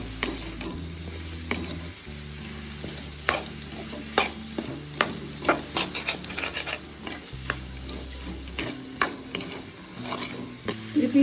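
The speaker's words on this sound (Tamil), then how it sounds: "இது எல்லாத்தையும் நல்லா ஒரு தடவை மிக்ஸ் பண்ணணும்." A spoon stirs chopped capsicum into a kurma in a pan with repeated scraping and clinking strokes in an uneven rhythm. A low sizzle runs underneath, close and fairly quiet.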